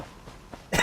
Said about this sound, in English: Sorry about my coughing, everybody. Bad cold.